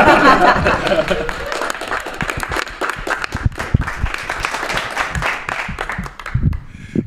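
An audience at a geek-themed stand-up comedy show claps and chuckles for a comedian, the applause loud and dense at first, then thinning into scattered claps with laughter and a few voices.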